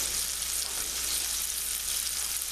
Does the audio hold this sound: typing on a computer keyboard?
no